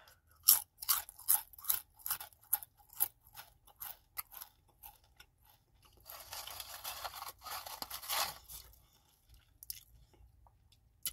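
Tostitos Hint of Guacamole tortilla chips are crunched slowly up close, with a series of crisp bites spaced about a second apart, then a denser stretch of crackly chewing, with no talking.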